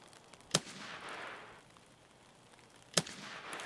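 Gunfire in the video game Escape from Tarkov, two sharp separate shots about two and a half seconds apart, quiet and somewhat distant over a low hissing game background.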